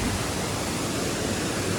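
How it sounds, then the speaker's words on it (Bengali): Turga waterfall at Ajodhya Pahad in Purulia, a dense steady roar of rushing water heard close and loud with no break or voices. "আর কি আওয়াজ আসছে ওয়াটারফলে"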